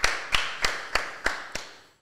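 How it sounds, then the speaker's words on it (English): Six sharp claps in an even rhythm, close and crisp, each decaying quickly, with no talking. "Dude, honestly, we're going to clap it up for that one."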